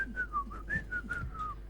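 Someone whistles poorly and breathily in a wavering, unsteady tune of short wobbling notes, fairly faint over a steady low hum, on a Spanish-language talk show.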